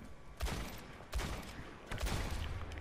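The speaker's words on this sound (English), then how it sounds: "that's a fairly large aerial explosion" Dynamite blows up in a large aerial explosion in a video game, with three separate booming bursts spaced about a second apart, each followed by a rumbling tail.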